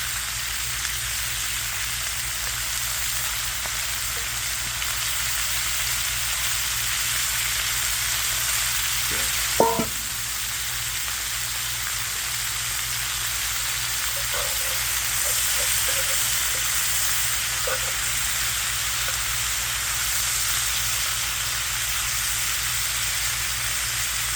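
Pork and vegetables fry in a pan on a grill setup, a steady close hiss of sizzling with a few clicks and scrapes from a rubber spatula stirring, with no talking.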